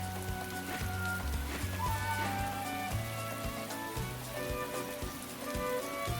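Rain falls in the video game Atelier Ryza 2, a steady hiss of drops on surfaces layered under game music with a looping melodic accompaniment.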